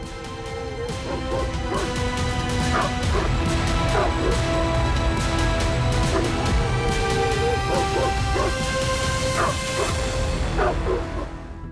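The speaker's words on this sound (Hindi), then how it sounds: "आवारा कुत्तों ने आतंक फैला रखा है" Stray dogs bark and yelp in a city street in Kanpur, repeated loud barks over steady traffic-like background noise throughout.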